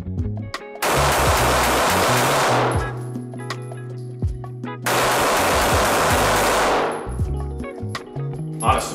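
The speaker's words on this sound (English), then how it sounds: "we're going to shoot it back to back with the regular 365XL" Two SIG P365XL pistols, the Spectre Comp and the standard model, fire two loud, sharp shots a few seconds apart, each followed by a long ringing echo, with faint metallic clinks between them.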